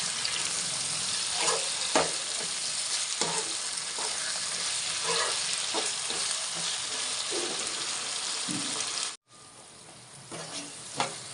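Marinated chicken fries in a pan with a steady, close sizzle, broken by scraping stirs. The sizzle drops out briefly near the end, then resumes more quietly. No one speaks.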